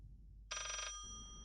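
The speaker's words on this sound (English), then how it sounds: "And then, of course, the phone rings again." A telephone ringing in the horror game Layers of Fear: a single short bright electronic trill, close and clear against near silence, cutting off after about half a second.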